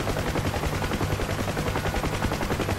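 M60 door gun on a UH-1H Huey helicopter in the combat flight sim DCS, firing a sustained, rapid stream of automatic shots that stays loud and dense throughout, over a steady low rotor drone.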